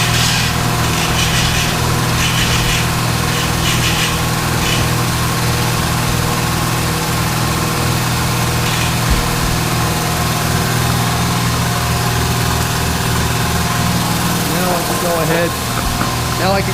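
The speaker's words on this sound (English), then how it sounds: "So I need that compressor on because I need some shop air." An air compressor runs in a workshop during guitar body work, a loud continuous motor hum with steady vibration filling the whole stretch, and a voice talks faintly underneath.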